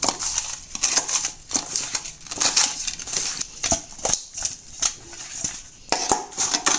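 Rohu fish pieces squished and kneaded by hand with salt and turmeric, giving wet, irregular squelching and soft clicks in an uneven rhythm, close and moderately loud, with no talk.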